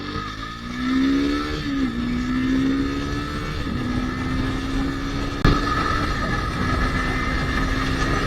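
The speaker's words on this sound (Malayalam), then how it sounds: "ഇപ്പൊ നിങ്ങൾ കണ്ട പോലെ തന്നെ വണ്ടി വളരെ സ്മൂത്ത് ആയിട്ടാണ് 100, 120 ഒക്കെ കയറിയത്" Triumph Scrambler 400X motorcycle accelerating hard to highway speed, its engine note climbing steadily through the gears under heavy wind rush, loud and continuous, heard from the rider's position with no talking.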